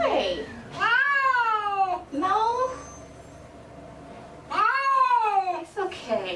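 A cat meows during its first bath, letting out several loud, stretched, complaining cries in close succession, with a person speaking briefly between them.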